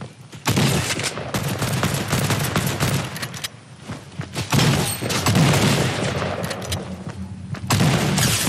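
Rapid bursts of gunfire in the video game Fortnite, dense and sustained with short gaps, loud and continuous throughout.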